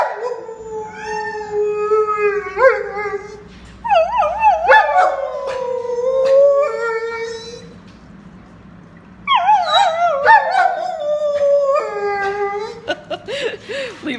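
Several dogs howl and whine in long, wavering, rising and falling cries, close by, in two bursts separated by a brief lull, with a few yips.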